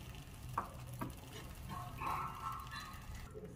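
Homemade cream whisked from malai being stirred into a paneer butter masala gravy in a pan, a soft, steady scraping and gentle bubbling with a few light clicks, close and fairly quiet.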